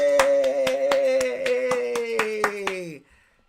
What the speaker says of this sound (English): Let me give y'all a clap.